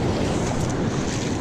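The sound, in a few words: ocean surf waves on the Oregon coast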